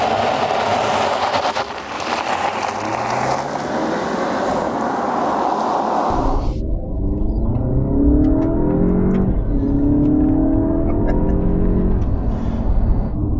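A 2021 Alfa Romeo Giulia Veloce driven hard in dynamic mode: rushing road and wind noise at first, then a loud engine note that climbs and drops repeatedly through the gears, heard close with no talking.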